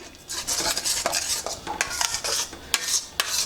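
A spoon clinks and scrapes against a metal pot while stirring a beetroot malt mixture, with a steady run of close, rhythmic taps and rattles.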